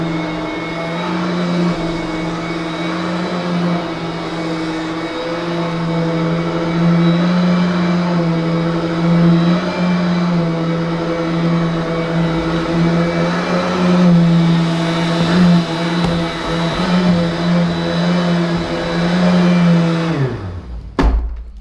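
An Aerus Fresh Era upright vacuum cleaner, also sold as the Hoover Royal C1320, runs with a loud, steady motor whine and hum for a long stretch, then is switched off and winds down at the end.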